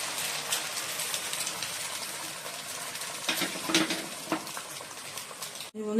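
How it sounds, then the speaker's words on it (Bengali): Eggs frying in a pan with onion and chili, giving a steady close sizzle throughout with a few faint clicks and scrapes near the end. "চলো ডিমটা ভেজে নিই ডিমটা ভেজে নিচ্ছি"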